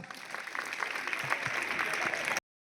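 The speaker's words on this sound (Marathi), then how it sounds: "टाळ्या एकदा" A crowd at a school's World Yoga Day gathering in Kalamb claps together for about two seconds in a dense, moderately distant burst of applause that stops abruptly.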